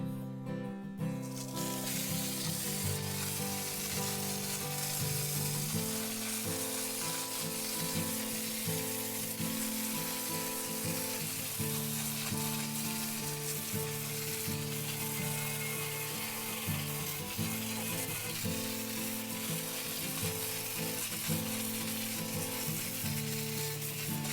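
Degreaser sprayed onto a greasy, grimy tractor: a steady, close hiss runs without a break for the whole stretch, with a faint fizzing crackle beneath it and no talk.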